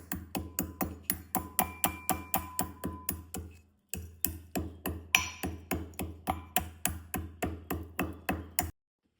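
Black pepper and cumin pounded in a stone mortar, a steady run of sharp, regular knocks about three per second, a brief pause near four seconds, then the same even pounding resumes, close and clear with no talk.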